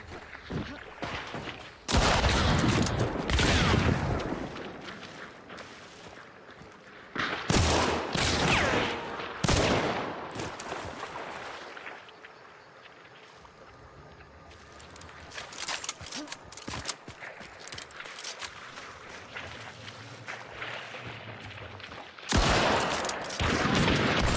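Shotgun blasts in a multiplayer shooter game, heard as loud, sharp, close bursts spread irregularly, with quieter gameplay noise such as footsteps in the gaps between them.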